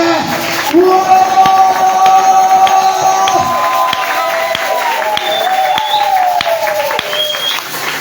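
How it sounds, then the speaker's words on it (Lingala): A church congregation applauds and cheers at a worship service in a loud, sustained crowd wash, with voices and tones rising above the clapping. "Acclamez le Seigneur."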